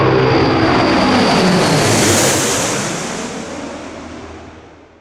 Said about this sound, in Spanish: haciendo que el Tu-95 sea uno de los aviones más ruidosos del mundo.